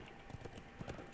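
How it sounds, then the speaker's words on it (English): Horse hooves clip-clop in a quick, even rhythm in a video game, soft and steady over a brief stretch with no talk. "let me bring my horse in here"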